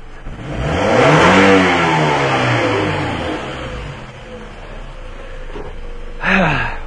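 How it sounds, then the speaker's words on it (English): A Toyota Camry engine with A/F sensor codes P2196 and P2238 revving hard at wide open throttle, climbing loudly and holding, then easing off before a short second blip. "maybe I can sustain the wide open throttle just a little bit without blowing this engine"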